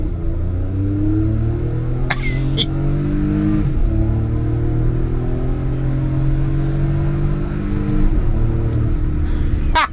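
A Hyundai car engine revs up and down repeatedly, with rising and falling pitch sweeps across about ten seconds, loud and close, punctuated by a couple of sharp clicks or shifts.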